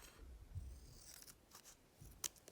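Scissors snip through packaging around a two-tone Pandora four-leaf clover charm box, a few quiet close cuts with one sharper snip near the end.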